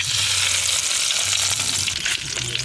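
Oil heats in a wok for a country-style meat curry, giving off a loud, continuous sizzle and crackle with a low hum underneath, with no voices.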